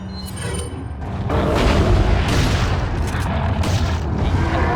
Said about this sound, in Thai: มาคงได้ใช้ลูกซองกันละ